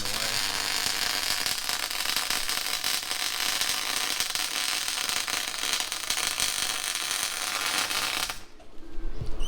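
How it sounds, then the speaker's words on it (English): Welding new rear tray and fuel tank brackets on a truck: a continuous, dense crackling sizzle of the arc, steady and close, running for about eight and a half seconds before cutting out into quieter noise. "Am's starting welding now. Give you a look at the welding away."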